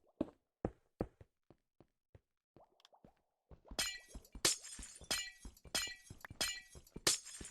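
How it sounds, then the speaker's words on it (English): Glass blocks being mined and shattering in Minecraft, heard as a series of sharp breaking crashes with small clicks before them and no talking. "I had to use the one thing I do not like mining, which is glass. It sounds terrible"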